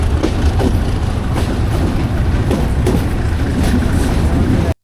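A moving passenger train rolls along in the rain near the Brahmaputra river, with a steady loud rumble of wheels and carriage, rhythmic clacks on the rails, and a faint voice beneath the noise.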